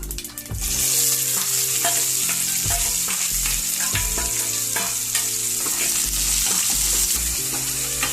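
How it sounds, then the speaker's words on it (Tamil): Steady loud sizzle of chopped onions frying in hot oil, with repeated clinks and scrapes of a spoon stirring the pan, close up. "இப்ப நான் பொடியா நறுக்கி வச்சிருக்க 2 வெங்காயத்தை நல்லா செவக்க வதக்கிக்கலாம்."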